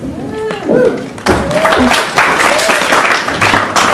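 Audience applause at a flat earth comedy show, a burst of clapping that builds from about one second in and carries on steadily, with voices calling out over it.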